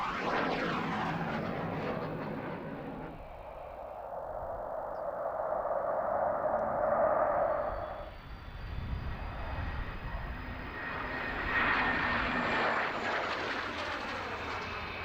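Hawker Hunter jet fighters fly past at a celebration event, a loud roaring engine sound that swells, fades around the middle, then builds again in a second pass with a rising whine, no talking.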